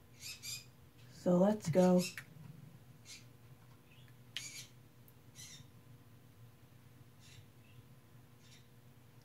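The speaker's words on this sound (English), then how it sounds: "Dang it, why can't those birds just shut up?" Birds squawk in the Bratz Rock Angels video game, giving short, sharp chirps and calls scattered across a quiet background after a brief spoken phrase near the start.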